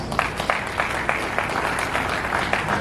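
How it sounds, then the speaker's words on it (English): An audience at a legislative conference gives a short burst of steady applause, many hands clapping together in a hall. "That deserves an applause, I guess."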